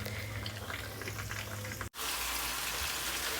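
Chicken roast sautéing with spices in a pot, a soft, steady hiss of frying close by and fairly quiet, cut by a brief silent gap partway through before the sizzle resumes.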